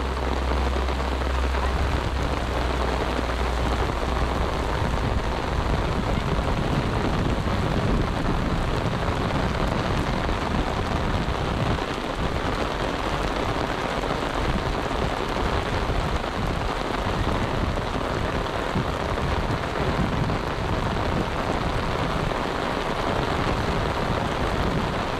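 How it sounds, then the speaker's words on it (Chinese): A heavy downpour roars steadily and densely throughout, rain drumming on surfaces without a break, with low rumbles of thunder. "下大雨"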